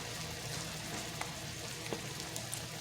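Meat searing in a hot pan gives a steady, soft sizzle and crackle, with a few faint pops and no talking.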